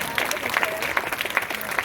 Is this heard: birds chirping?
no